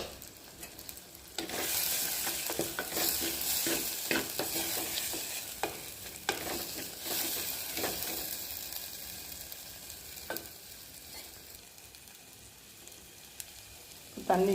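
Wild mushroom curry with chili powder fries in a pan while being stirred, a continuous soft sizzle broken by repeated scraping clicks of the spoon against the pot, moderately close and not very loud.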